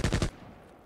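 A quick three-round burst from a light machine gun in the Tarkov Arena shooter, loud and close, cutting off sharply and leaving a faint tail.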